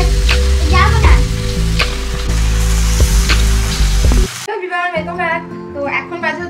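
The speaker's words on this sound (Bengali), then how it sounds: "আর এখানে এই যে ডিমের ঝোলটা চলছে" Egg curry loudly sizzles and bubbles in a pan while being stirred, with a voice talking over the cooking noise; the frying then drops away, leaving the speech.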